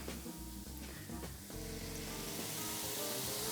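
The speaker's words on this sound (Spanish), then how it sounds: "vamos a añadir aquí en el fondo un chorrito de chacolí, chorro ligero de chacolí para darle acidez y para desglasar el fondo de la sartén" Chacolí wine splashes into a hot sauté pan to deglaze it, setting off a steady, bright sizzle that stays loud and even throughout with no voices over it.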